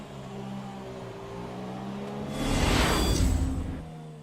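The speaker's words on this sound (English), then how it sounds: "this is the point where we eased off the throttle to let him through" Racing car engine in F1 2017 holding a steady, buzzing whine as the driver eases off the throttle, then a loud whooshing rush swells past for about a second before the engine tone drops away.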